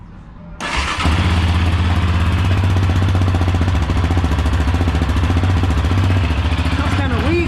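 A Yamaha Raptor 700R ATV with its original muffler starts and then idles loudly and steadily close by, with a rapid, even engine pulse throughout.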